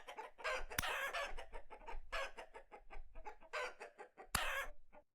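Chickens in the Vintage Story video game cluck in repeated bursts, with a few louder crow-like calls, close and clear with no talk over them.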